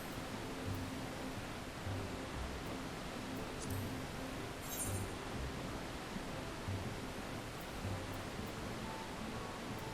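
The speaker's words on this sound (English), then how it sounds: "I really like it because it's got like the white noise of the waterfall." A waterfall at a player house in Final Fantasy XIV gives a steady, even wash of white noise, quiet and unbroken, with a couple of faint brief chimes rising over it.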